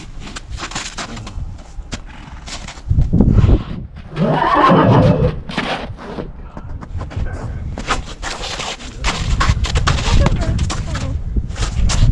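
Suffolk draft horse foals neigh and whinny while being loaded into a trailer for the first time, with loud bursts of calls mixed with stamping and handling noise near the microphone, and voices talking underneath.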